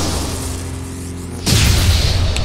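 A missile blast in the Sonic Frontiers video game: a steady rumbling whoosh builds, then a loud, close boom bursts in and rolls on as a heavy roaring tail.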